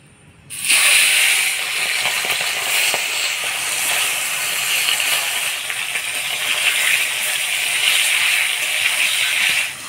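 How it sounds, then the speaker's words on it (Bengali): Small rohu fingerlings, rubbed with turmeric and salt, hit hot oil in a wok and burst into a loud, steady hiss and crackle that starts abruptly and holds for several seconds, close up with no talking. "তেল গরম হয়ে গেছে, এবার মাছগুলো ভাজে নেব।"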